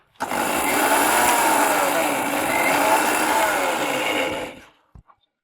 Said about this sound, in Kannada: ಮಿಕ್ಸಿಗೆ ಹಾಕ್ತಾ ಇದೀನಿ